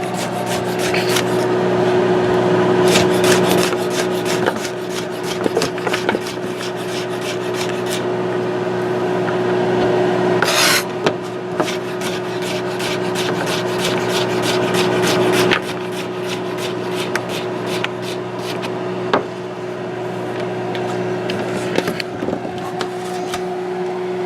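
A knife slices zucchini and summer squash on a cutting board, with repeated close taps and scraping strokes alongside a steady background hum, and no voices.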